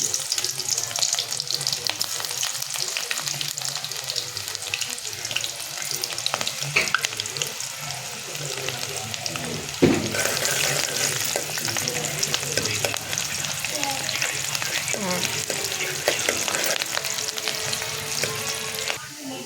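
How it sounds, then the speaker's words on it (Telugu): Chopped onions fry in hot oil for a tempering, giving a steady, close sizzle with scattered crackles and occasional stirring scrapes that last throughout, with no talking. "ఇప్పుడు నూనె మంచిగా కాగింది ఉల్లిగడ్డ తాలింపు చేసుకుందాం"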